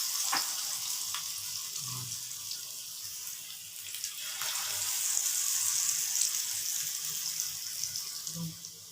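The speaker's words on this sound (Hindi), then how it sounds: "ऑयल हमारा अच्छे से गर्म हो चुका है। अब हम इसमें पकौड़े डालते हैं।" Pakora batter frying in hot oil, a steady, hissing sizzle that runs throughout with small swells and crackles, close and moderately loud, with no talking.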